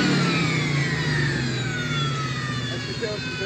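A supercharged 2004 Ford Mustang GT engine runs with a high rising whine over a throaty rumble, loud and near, the pitch sweeping upward as it revs.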